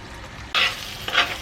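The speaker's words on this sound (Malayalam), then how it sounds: "നല്ല ഒന്ന് ഇളക്കി യോജിപ്പിക്കുക." Fried mussels are stirred into a bubbling mussel pickle mixture in a pan, giving two close scraping, sizzling strokes over a low simmering hiss.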